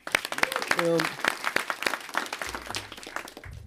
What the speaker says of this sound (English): I want to give you another round of applause for that.